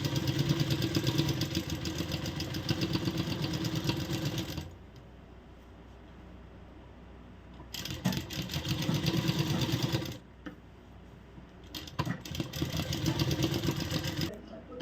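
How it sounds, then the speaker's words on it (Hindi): Sewing machine stitching along the edges of kurti fabric, a steady close motor whir with fast needle chatter in long runs, broken by short pauses, and brief quiet talk in the gaps. "इस तरह किनारे किनारे हम इसमें सिलाई लगाएंगे और ये सिलाई हमारी चारों तरफ रहेगी।"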